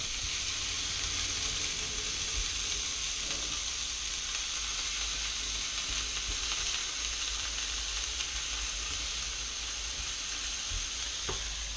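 Cumin seeds sizzle and fry in hot oil for an Indian bhuna masala, a steady close crackling hiss that runs evenly throughout with no voices.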